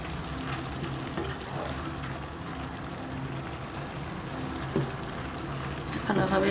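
Dried Bombay duck fish is stirred in a hot frying pan with a steady, loud sizzle throughout. Scraping strokes of the utensil rise near the end, and a voice talks over the cooking.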